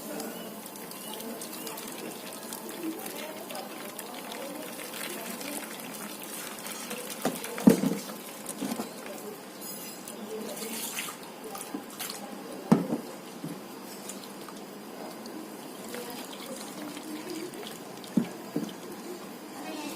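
Blended plant-based chili pesticide liquid being strained, with a soft continuous trickle and dripping of liquid, a few sharper splashes and clinks, moderately close and steady under faint background noise.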